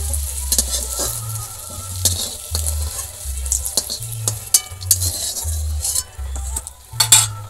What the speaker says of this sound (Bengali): আলুগুলোও ভাজা হয়ে গেছে, এবার তুলে নেব।